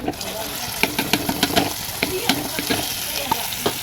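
Ground okra chutney goes into hot tempering oil with curry leaves, crackling and spattering in sharp irregular pops over a sizzle, close by.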